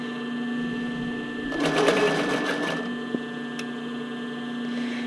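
A sewing machine stitches a hem on a tank top in a short, fast mechanical whirring burst of about a second and a half. A steady electrical hum runs under it, with a faint click afterward.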